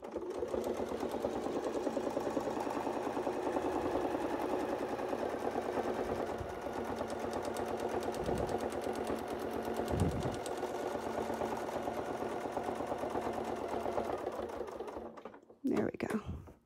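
A sewing machine stitches steadily, a quilting curve template guiding the work, with a fast, even mechanical whir, close and moderately quiet, broken by a couple of brief pauses near the end.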